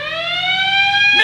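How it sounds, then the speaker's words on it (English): A car siren blares loudly and steadily, a single sustained rising electronic tone with rich harmonics that holds for the whole moment, with no voices over it. "And step on it, blare the sirens."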